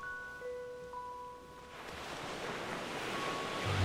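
Ocean waves wash ashore, a broad surf rush building over the second half after a faint sustained tone fades out, with no voices.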